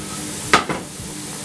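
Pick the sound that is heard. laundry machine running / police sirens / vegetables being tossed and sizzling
vegetables being tossed and sizzling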